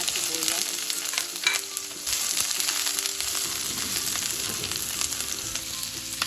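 Garlic and onion hitting a hot pan (kawali) and frying, a loud continuous close sizzle with occasional stirring scrapes throughout.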